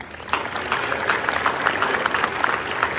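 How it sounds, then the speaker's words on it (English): Sustained applause from a graduation crowd at an academy honouring families and mentors, a steady wash of many hands with scattered sharper claps, moderately loud and without speech. "How about a round of applause for them?"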